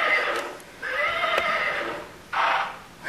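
A toy horse neighs in a high, electronic-sounding whinny, repeated with short gaps, close by and fairly loud.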